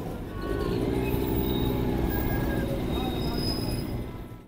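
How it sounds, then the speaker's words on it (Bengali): The Darjeeling toy train runs through forest, a steady rumbling and rattling of small carriages on narrow-gauge track heard from aboard, with faint high tones above and the noise fading out at the end. "এটা তো টয় ট্রেন"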